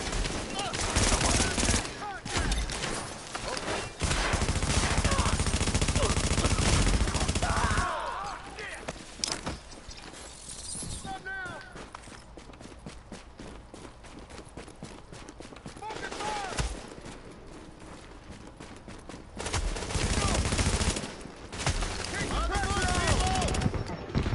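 Gunfire in the video game Tom Clancy's The Division, PvP combat, with dense bursts of rapid automatic fire and single shots in loud stretches separated by quieter gaps, with voices shouting over it.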